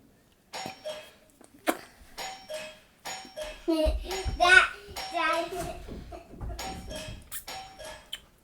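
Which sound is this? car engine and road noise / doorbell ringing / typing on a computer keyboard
doorbell ringing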